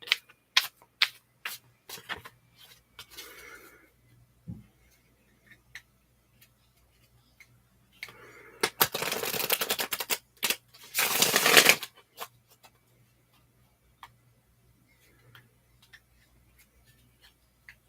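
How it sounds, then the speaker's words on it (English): Cards are shuffled close by, with scattered light taps and clicks, then a couple of bursts of riffling and bridging, and quiet pauses in between. "I will be done shuffling your cards just shortly."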